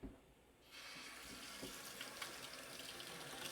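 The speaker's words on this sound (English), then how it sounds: "we're going to put some cold water on these shrimps" Cold tap water runs steadily over frozen shrimp in a sink, a continuous close splashing stream that starts after a brief quieter moment and holds at an even level, with no talking.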